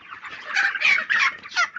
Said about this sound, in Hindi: ये वाला है अपना मुर्गा